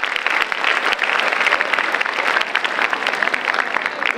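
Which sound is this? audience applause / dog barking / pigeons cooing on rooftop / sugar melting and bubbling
audience applause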